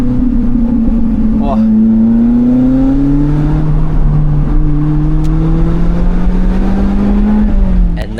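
A Lotus Elise engine revs hard and holds a loud, droning pitch that climbs and eases over several seconds, captured by an onboard camera microphone with heavy wind and road rumble underneath.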